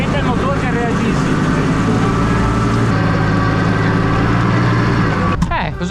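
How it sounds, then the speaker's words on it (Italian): A tractor engine drones loud and close in a steady, rough, rumbling roar with little change in pitch, while voices talk over it; it cuts off abruptly near the end. "Io quando ho accelerato e decelerato, sente il motore se reagisce."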